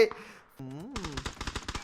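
Rapid gunfire in a shooting video game, a burst of sharp evenly spaced shots following a short rising electronic tone, loud and close.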